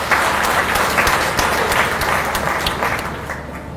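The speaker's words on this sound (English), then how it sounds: "I request all of you to give a big applause for him" Audience applause for a political leader at a governor-inaugurated uniforms and garments manufacturer fair: a sustained, even wash of many hands clapping that tapers off slightly toward the end.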